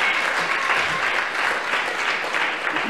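Continuous audience applause at a devotional gathering honoring named devotees, close and even, with no pause in the clapping throughout.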